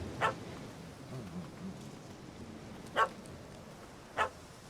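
A dog in Witcher 3: Hearts of Stone barks three times, sharp isolated barks spaced across a quiet ambient game backdrop, moderately near.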